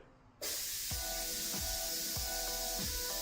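A loud, steady hiss of steam venting from an Instant Pot pressure cooker cooking rice starts abruptly and continues, with faint rhythmic clicking and rattling underneath.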